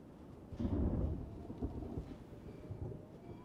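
A low rumble of thunder rolls through, swelling briefly then fading into a lingering murmur with faint rain in the background.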